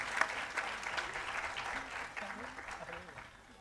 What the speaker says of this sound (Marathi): हक्कानी टाळ्या मागून घेणार आहे